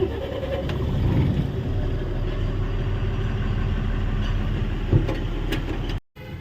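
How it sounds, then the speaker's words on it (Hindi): A truck engine runs steadily with a low, dense rumble throughout, then cuts out abruptly near the end before a brief faint resumption. "भाई अब करते हैं गाड़ी को स्टार्ट"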